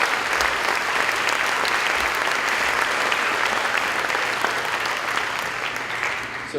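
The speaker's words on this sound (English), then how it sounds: "I do want a round of applause for all the parents that helped with that" A concert audience at a school band's May concert claps for the parents who helped. Dense, sustained applause fills the hall at steady strength and fades slightly near the end.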